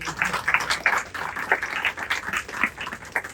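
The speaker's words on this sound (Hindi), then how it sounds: "फिर ताली धीरे से बजा रहे आप लोग।" An audience at a religious discourse in Viman Nagar, Pune, claps softly and unevenly, with scattered hand claps rising and falling in loose bursts for a few seconds.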